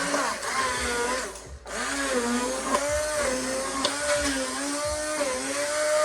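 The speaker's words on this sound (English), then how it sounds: "blend up the broccoli and cheddar soup" A blender runs steadily at high speed blending broccoli cheddar soup, its motor whining with a wavering pitch, dipping briefly as it changes speed before spinning back up.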